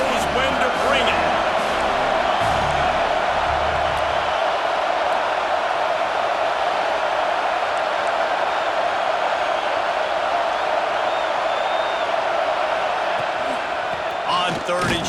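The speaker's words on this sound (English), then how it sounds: "This crowd knows when to bring it." Stadium crowd noise from EA Sports College Football 26 during an Alabama versus Georgia game, a steady loud roar of a packed crowd sustained throughout, with brief low thumps near the start.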